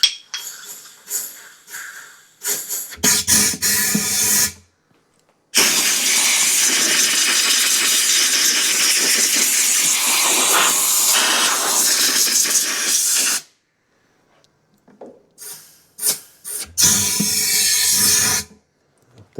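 Compressed air blasting into the carburetor area of a Westinghouse iGen2550c generator that won't start: several short loud hissing bursts, one long sustained blast of about eight seconds, then more short bursts, all close and without talk.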